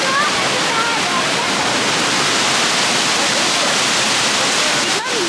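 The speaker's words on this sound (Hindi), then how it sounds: "ही प्यारा वाटरफॉल है, मज़ा आ गया।" Waterfall near Manali in the Himalayan valleys, heard close as a loud, steady broadband roar of falling water that holds unchanged throughout, with a brief voice near the end.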